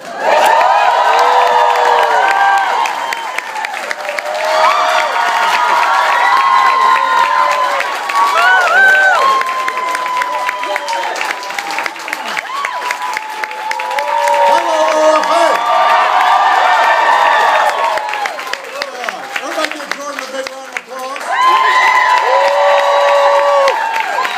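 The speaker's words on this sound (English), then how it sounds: "There's a rowdy crowd as usual." A rowdy crowd at an Organizing for Action event cheers, whoops and applauds for President Obama in loud waves that swell and ebb over the whole stretch, with brief dips between bursts.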